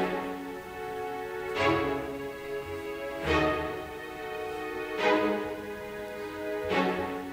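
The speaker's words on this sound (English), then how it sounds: "I actually used this preset from Scalar 2. So I used their staccato strings" Short staccato string hits from a Scalar 2 preset in a drill beat, with four evenly spaced stabs ringing out over a soft sustained background.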